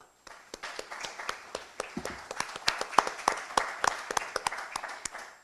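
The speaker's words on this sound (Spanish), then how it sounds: "Y este aplauso también de nuevo para usted." Audience at an international congress session on Jesuit missions applauds a speaker, steady crisp hand clapping from many people filling the room throughout, moderately loud with no voices over it.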